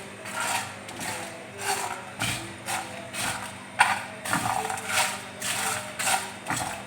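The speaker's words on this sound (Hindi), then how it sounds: "इसको ग्राइंड कर लूँगी" Whole coriander seeds, dry-roasted, are ground in an electric spice grinder, giving a rough, rattling whir with pulsing bursts that come and go steadily throughout, close and moderately loud with no talking.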